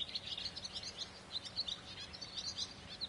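Faint bird chirps and tweets repeat in quick, irregular bursts within the game Ghost of Tsushima, heard alone against quiet background ambience.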